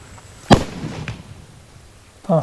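A firecracker dropped into water goes off with one sharp, loud bang, followed by a brief splashy rumble and a second burst of noise at the very end.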